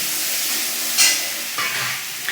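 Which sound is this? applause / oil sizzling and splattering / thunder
oil sizzling and splattering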